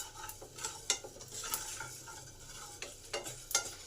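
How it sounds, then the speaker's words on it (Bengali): Spices crackle and pop as they dry roast in a pan for a Bengali labra, giving sharp scattered snaps over a low sizzle, with scraping stirring strokes and no talk. "এই যে চড়বড় করে আওয়াজ হচ্ছে, এটাতেই বুঝে নিতে হবে মশলাগুলো আমার ভাজা হয়ে গেছে।"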